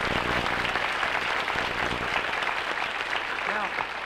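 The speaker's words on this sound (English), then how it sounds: "I'd like to share an applause for Roger Carroll" Studio audience on a 1960s variety show clapping for announcer Roger Carroll, steady full applause with music or voices faintly underneath.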